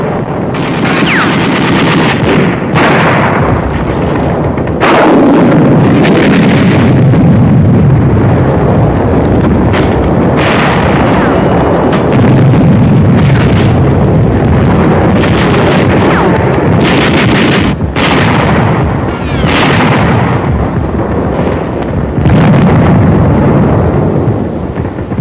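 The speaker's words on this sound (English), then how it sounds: "Carried rocket gun. Firing it takes close teamwork." WWII rocket gun firing in battle on New Britain in 1944, with a loud, continuous roar of wind-buffeted noise broken by repeated sharp blasts and bursts spread across the whole stretch.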